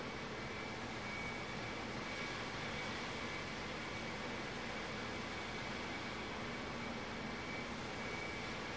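A Southwest Boeing 737-800 jet arriving at Las Vegas airport, its steady broadband engine roar held at a constant, moderate level throughout with no voices.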